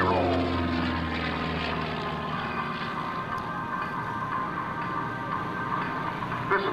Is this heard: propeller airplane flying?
yes